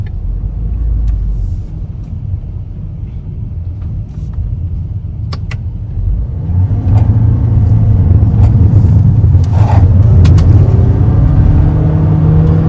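A Toyota Innova Hycross ZX hybrid with e-CVT accelerates after a downshift into sport mode, a low engine rumble that swells and grows louder and steadier in the second half, heard from inside the cabin with no talking.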